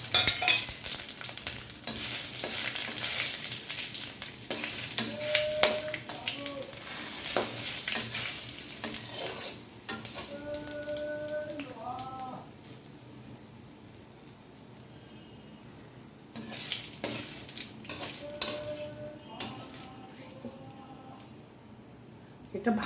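Dried red chilies and panch phoron sizzle and crackle in hot oil while tempering motor dal, a steady frying hiss with occasional stirring scrapes, as a voice talks intermittently over it.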